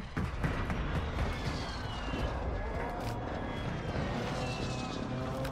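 A recon drone hums steadily overhead in the video game Call of Duty Warzone, a continuous airborne whine with faint background game noise and no break.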